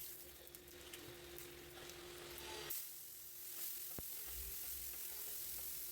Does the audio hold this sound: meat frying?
yes